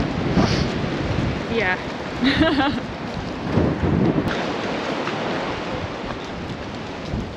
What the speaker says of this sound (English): So the wind's picked up again.